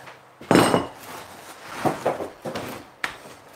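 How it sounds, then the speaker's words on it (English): Metal G clamps knock and clink on a wooden workbench, with one loud clatter followed by several lighter taps and bumps, close by and without talk. "Got a couple of G clamps."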